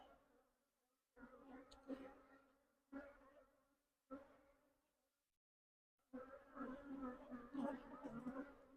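Bees from a hive being requeened buzz close around a beekeeper's protective suit in several loud bursts separated by short silent gaps, swelling into a dense, sustained swarm drone at the end.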